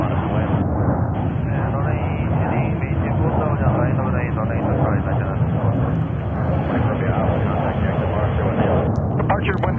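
Jets departing JFK Airport in New York roar loudly and steadily, with a voice talking over the engine noise throughout.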